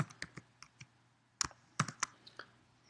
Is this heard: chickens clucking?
no